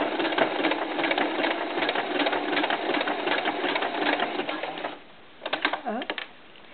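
A sewing machine stitches a knit doll tank top in a steady close whirring run for about five seconds, then stops and gives a short final burst.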